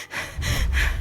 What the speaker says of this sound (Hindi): वो हांफने लगी।